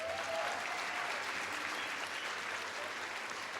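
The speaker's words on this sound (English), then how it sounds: "Can we give NCAM one more round of applause, please?" Dense, continuous applause from a crowd, steady and fairly loud throughout with no talking.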